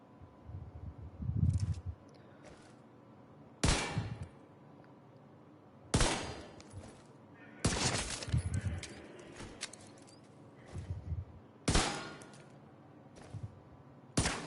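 Repeated bursts of gunfire in The Division 2 video game: sharp, loud volleys recur every couple of seconds, some in quick automatic strings, with quiet gaps of game ambience between them.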